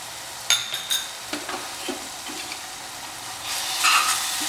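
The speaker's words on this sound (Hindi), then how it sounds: "अब इन्हें बढ़िया हम भून लेंगे मसाले को" Chicken curry masala with green chillies frying in a pressure cooker, a soft steady sizzle under scraping stirs and a few utensil taps, close up with no talking.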